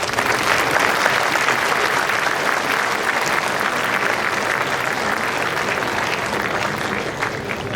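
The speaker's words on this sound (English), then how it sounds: "I hope you know what you're clapping." A large school audience at Aitchison College's Founders Day claps vigorously during the principal's speech, a thick sustained roar of applause that stays loud and even, tapering only slightly near the end.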